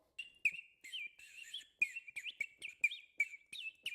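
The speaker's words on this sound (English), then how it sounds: "That sounds like birds, like tweeting outside" A water-filled bird whistle chirps in quick, warbling tweets that sound like birds singing outdoors. The bursts repeat in a fairly steady rhythm, close and moderately loud.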